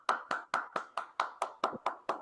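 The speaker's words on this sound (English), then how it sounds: "Let's all give her a loud round of applause." Rhythmic unison clapping at a Toastmasters meeting, about ten evenly spaced sharp claps in quick succession, crisp and fairly close with no talk over them.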